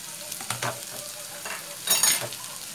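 Chicken coxinha filling being stirred in a hot pan, quiet sizzling under soft scraping strokes of a utensil, with a brief louder scrape near the end.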